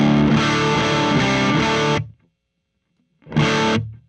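Electric guitar through an amp's overdrive channel with the drive pedal switched off, a loud sustained distorted chord ringing for two seconds, silence, then a shorter chord that fades.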